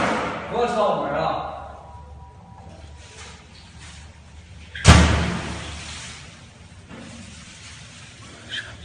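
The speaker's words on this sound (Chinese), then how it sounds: "我敲门啊！" A single loud thud of a door being struck comes mid-clip, sharp and close, while people talk and argue around it.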